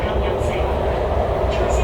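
Hong Kong train heading toward Shenzhen, a loud steady interior rumble and rolling roar, with a voice talking over it.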